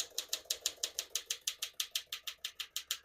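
A 1955 Smith-Corona Silent-Super portable typewriter types in a steady run of about eighteen crisp, evenly spaced key strikes, close and distinct, with no talk.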